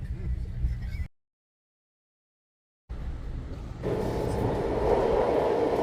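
Broad rumbling roar of a train, cut off by a few seconds of silence, then returning louder and steadier.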